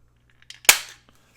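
A corner rounder punch snaps through paper corners during junk journal crafting: a few small taps and rustles, then one sharp, loud click that decays quickly, close up with no talking.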